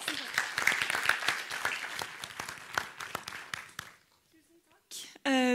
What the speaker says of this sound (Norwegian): vi kan gi en applaus.